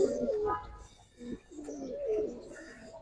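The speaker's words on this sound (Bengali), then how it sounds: "চোখ দেখছেন কবুতরে" Cobra silver pigeons at a farm loft give several close, rolling coos in separate phrases, moderately loud with quiet gaps between.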